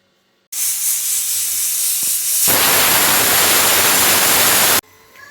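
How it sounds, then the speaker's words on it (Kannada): Steam hisses loudly and steadily from a pressure cooker of sambar on the stove, then surges even harder midway through the whistle before cutting off abruptly, leaving a quieter kitchen. "ಇವಾಗ ಮುಚ್ಚಳನ ಕ್ಲೋಸ್ ಮಾಡಿ 3 ವಿಷಲ್ ಹಾಕಿಸ್ಕೊತಾ ಇದ್ದೀನಿ"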